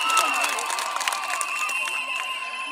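A crowd at a Kenya Kwanza political rally in Nyaribari Chache gives a sustained, fairly loud burst of clapping and cheering, with shouts and whistle-like tones over a steady roar of many people.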